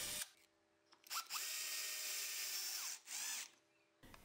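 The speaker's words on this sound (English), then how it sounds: "I drill 2 holes and thread one of the holes and screw it in." A power drill whines at high pitch in two sustained bursts, drilling holes in aluminum, separated by a brief pause, with short clicks of handling around them.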